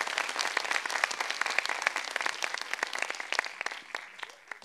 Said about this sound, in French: applaudissements pour cette anecdote de Laurie.